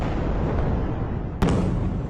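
Airstrike explosions over Gaza at sunset in news footage: a continuous heavy rumble with one sharp, loud blast near the end, with no speech.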